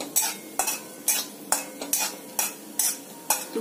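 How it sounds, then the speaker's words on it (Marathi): A spoon stirring grated carrots frying in ghee for homemade gajar halwa, eight sharp scraping strokes against the pan at a steady rhythm over a soft sizzle, close and alone. "आपण याच्यामध्येच गाजर ही परतवून घेणार आहे तुपावर।"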